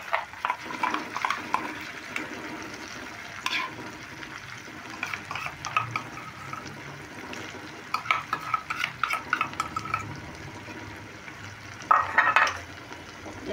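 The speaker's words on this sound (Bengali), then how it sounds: "এবার আমি কড়াইতে এইভাবে খুন্তি দিয়ে নাড়তে থাকবো" A spatula stirs pointed gourd paste with onion, garlic, tomato and green chilli frying in oil in a kadai, a low sizzle under steady scraping strokes with occasional sharper clinks against the pan.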